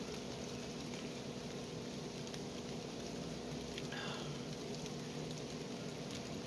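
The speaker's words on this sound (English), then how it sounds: "the rain's not that bad" Steady rain hisses softly and continuously, a faint even patter with no voices and no change in intensity.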